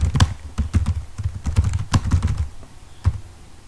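Keys clattering on a computer keyboard while a paragraph is typed into Microsoft Word, coming in quick irregular bursts of sharp taps with short pauses, close and clear.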